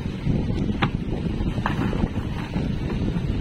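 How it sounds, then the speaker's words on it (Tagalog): Steady, blustery wind rumbles against the microphone with a constant low roar over rough open sea, during fishing. "Maalon siya, tapos mahangin kasi malakas kasing weather ngayon"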